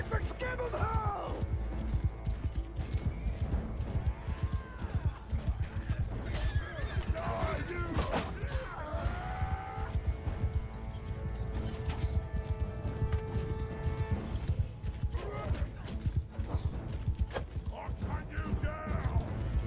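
A camel gallops in the video game Mount & Blade 2: Bannerlord, its rapid, continuous hoofbeats mixed with battle noise, creaks and a whinny-like call throughout.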